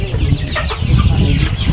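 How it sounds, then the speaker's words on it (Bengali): Tiger chickens on a poultry farm cluck loudly and close by in a brief continuous burst, with a few louder calls standing out. "এই যে আপনি টাইগার মুরগিগুলো যত্ন নিতেছেন"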